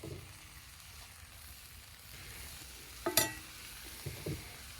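Whole wheat fajita tortillas sizzle softly in tallow on a collapsible grill outdoors, a low steady hiss broken by a couple of sharp metallic scrapes and taps near the end.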